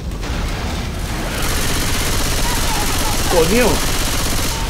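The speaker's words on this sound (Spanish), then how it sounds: "¡Ametralladora!" Machine gun fire in the zombie shooter Left 4 Dead 2 forms a dense, continuous rattle through the whole stretch, with a voice calling out over it.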